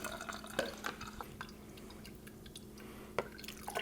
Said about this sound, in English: And we're just going to ladle this up.